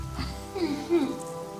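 Rain patters steadily on a surface while a person speaks briefly over it.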